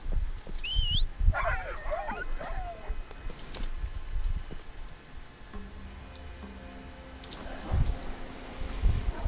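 Dogs in the video game Fade to Silence give a few short, close whines and yips early on, over a low ambient game background with faint ticking and thumps, then go quieter.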